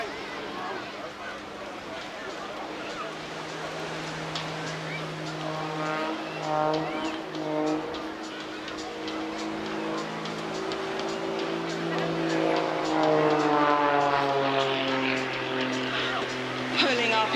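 Aerobatic plane with a 6-cylinder, 8.5-litre Lycoming engine making over 300 horsepower performs at the Clacton seaside airshow. A droning propeller-engine tone rises and falls in pitch as it climbs and rolls, under steady commentator speech.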